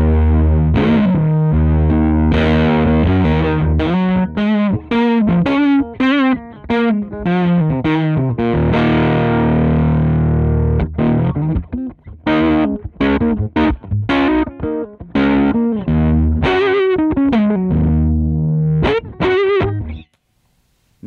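Electric guitar played through a fuzz pedal plugin, giving a thick, heavily distorted tone with punchy, fast chopped chords and riffs, loud and continuous with brief stops before ringing out at the end.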